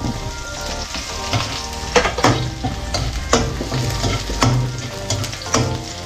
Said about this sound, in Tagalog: Igisa natin ating bawang at saka sibuyas.